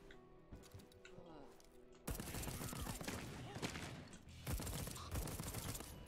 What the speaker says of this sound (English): Shooting, baby.